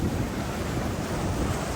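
Sea waves at Alvekodi beach in Bhatkal, where a river meets the sea beside a sea walk: a loud, steady roar of surf with heavy wind buffeting the microphone close up.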